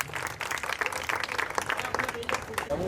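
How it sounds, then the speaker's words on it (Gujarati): Applause from a crowd at a Navratri garba celebration in a residential society, steady dense clapping filling the whole moment, with a voice speaking over it. "જોરદાર તાળીઓ. તાળીઓનો તાલ અટકવો ના જોઈએ."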